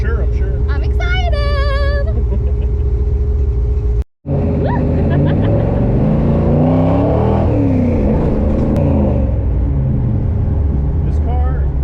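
A 1957 Chevy engine revs hard while driving, a loud sustained roar that rises and falls in pitch, with a brief dropout midway and a voice briefly at the start.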